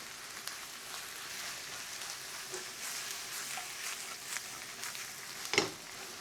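Meat stir-frying in a pan, a continuous soft sizzle with scattered crackles and a sharp scrape near the end, fairly faint and without speech.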